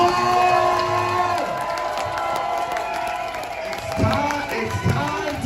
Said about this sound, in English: All right, ladies and gentlemen, big round of applause.